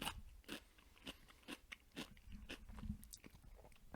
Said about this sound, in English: Or maybe you hate chewing sounds and this is like torture for you.